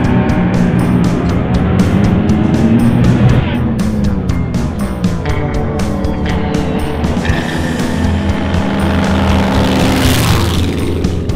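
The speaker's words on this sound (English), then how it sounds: "Sorokin had him the entire way down, the whole drag strip, until the finish line, when Murphy whizzed" Loud, continuous roar of top fuel dragster engines racing down a drag strip at close range, a dense mechanical din with a rising whine near the end and no clear talk.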